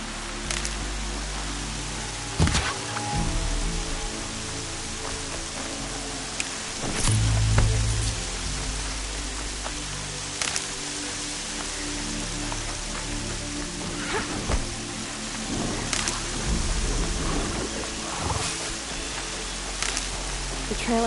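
Steady, hissing rain pours throughout a scene in the video game Horizon Zero Dawn, with occasional dull rumbles and soft thuds rising briefly above the constant wash; no speech.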